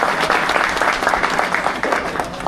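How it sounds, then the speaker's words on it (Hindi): Crowd applause welcoming MLA Rajkumar Thukral at a political gathering at Chhina Farm in Kashipur, a dense, steady wash of many hands clapping that holds throughout. "तालियों के साथ एक बार विधायक जी का स्वागत करेंगे।"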